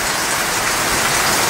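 Torrential rain falls hard and without letup in a mountain setting, a thick, even roar of water on surfaces, close and loud with no talking.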